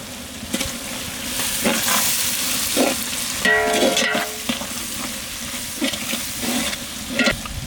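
Tomatoes sautéing in oil in a village kitchen pan, with ground ginger-garlic paste added, a continuous sizzle broken by repeated scraping stirs and a brief clatter midway.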